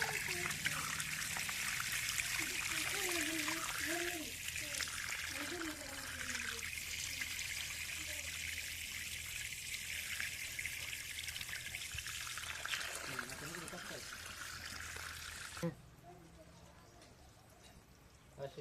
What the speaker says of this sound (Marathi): गडूळ पाणी पण यायला लागलं त्याच्यातलं